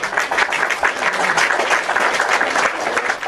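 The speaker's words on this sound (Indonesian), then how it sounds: "Kita kasih tepuk tangan dulu" Sustained applause from an audience on a live online show, a steady dense clapping that holds at an even level from start to finish with no voices over it.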